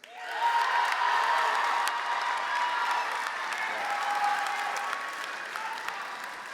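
A graduation ceremony audience at Hampden Charter School of Science applauds award honorees, with sustained crowd clapping at moderate distance, some light cheering, and a faint voice under it, fading a little toward the end.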